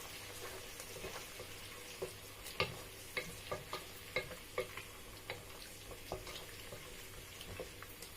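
Gizzard and plantain being stirred in a frying pan: a sizzling bed under a run of soft, regular scraping clicks from the utensil, close and fairly quiet, with no talking.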